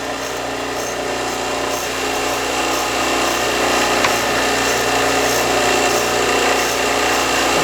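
A dado stack blade on a 12-inch table saw cutting black walnut gives a loud, continuous, dense whine and rasp that holds steady and close for the whole stretch, with no talking.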